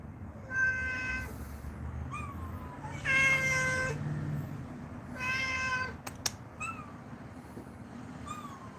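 Several cats meow and yowl in drawn-out, wavering cries, three loud calls spaced a couple of seconds apart with shorter chirps between, close by in a quiet room.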